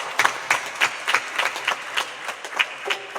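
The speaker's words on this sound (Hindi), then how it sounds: "इन्हें हम तालियां बजाकर धन्यवाद देते हैं।" Applause from an audience at a Navratri festival gathering, a few seconds of scattered hand claps with uneven rhythmic peaks, moderately close.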